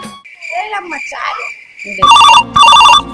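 After a stretch of conversation in a home setting, a telephone rings out in two loud, clear electronic bursts with a warbling trill.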